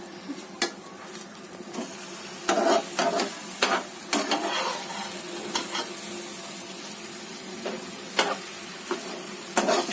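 A Schezwan sandwich flipped and toasting in a pan: repeated spatula scrapes and clatters against the pan over a steady, close sizzle, with no voices.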